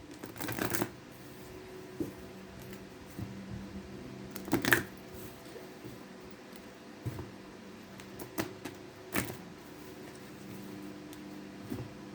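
Astrology cards are shuffled close by in a quiet room, several short papery riffling bursts separated by pauses, soft overall with no speech.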